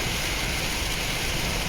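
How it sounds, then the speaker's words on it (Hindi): Steady rain pours down in Kuwait, a dense, even wash of hissing patter that is continuous and fairly loud, with no voices over it. "अच्छी भली बारिश हो रही है।"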